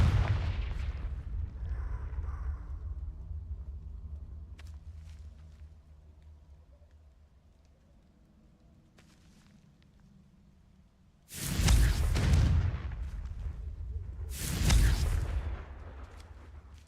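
Two heavy blasts from Confringo fire spells in the Hogwarts Legacy video game, each a sudden loud burst with a rumbling tail, following a quieter stretch of low game ambience.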